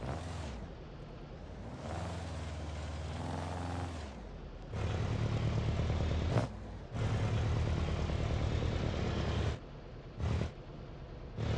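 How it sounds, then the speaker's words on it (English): A car in the BeamNG driving game revving hard through a loud exhaust, heavy low roaring bursts that cut off abruptly, with sharp pops and cracks between them as the exhaust backfires. "So it's got a little bit of the Piccolina type of deal there with the backfire"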